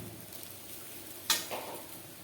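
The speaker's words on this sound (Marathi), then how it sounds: "आता यामध्ये आपण आपला रात्रभर भिजवून घेतलेला शाबुदाना टाकून घेऊया" Soaked sago pearls tipped into a pan of roasted peanuts give one quick sizzling, scraping burst partway through, fading over a second against a quiet kitchen background.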